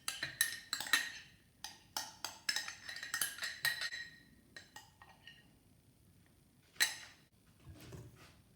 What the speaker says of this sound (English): I'm going to stir that in there.